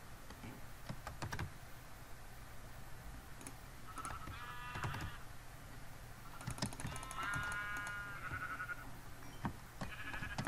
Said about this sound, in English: I didn't know there were sheep in this dimension.